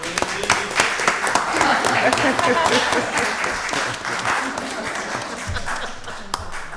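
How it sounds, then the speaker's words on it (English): Attendees at a county board of commissioners work session give the Chief a round of applause for a birthday, with steady clapping running for several seconds alongside talk and scattered voices. "Let's give the Chief a round of applause"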